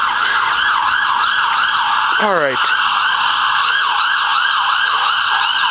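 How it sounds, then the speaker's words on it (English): A loud ambulance siren wails in a fast, repeating up-and-down pattern, close by in a residential neighborhood. A short spoken remark cuts in and a brief rising yelp interrupts the wail midway. "Oh, that's an ambulance."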